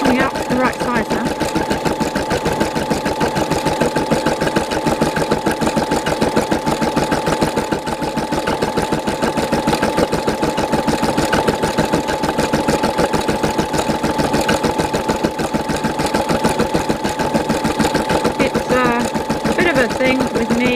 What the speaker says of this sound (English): I wanted to get an embroidery machine that did everything automatically.